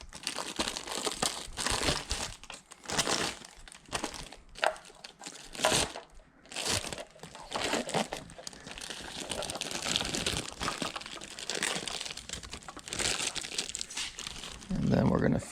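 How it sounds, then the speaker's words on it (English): Plastic protective film peeled back from a Mazda Miata NB aftermarket tail light, heard as close, continuous crinkling and crackling with irregular bursts and brief pauses, mixed with a faint voice. "Same process, just peel back the plastic a little."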